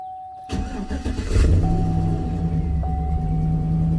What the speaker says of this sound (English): Attempt to start it.